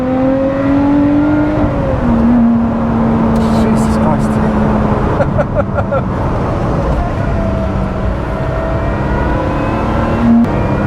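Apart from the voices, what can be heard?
Lotus Exige Sport 390 Final Edition engine while driving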